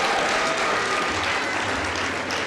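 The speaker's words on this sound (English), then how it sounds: "give that man a round of applause" Sustained, dense applause fills a graduation ceremony hall, loud and steady throughout with no break, from a large seated audience clapping together.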